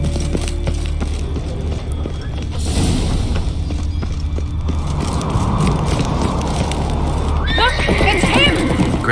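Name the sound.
horse neighing and galloping in the video game The Witcher 3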